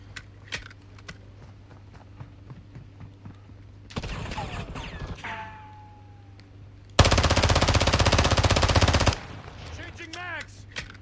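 VEL 46 submachine gun firing in Call of Duty Modern Warfare II: two bursts of rapid automatic fire, a shorter burst then a louder two-second stream, over a low steady hum with scattered clicks and light clatter between.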